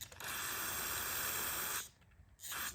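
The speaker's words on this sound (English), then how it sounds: "So if I spray carb cleaner into here," Carb cleaner sprayed from an aerosol can into a carburetor with a faulty primer bulb, a loud close hiss lasting nearly two seconds, a brief pause, then a second short burst.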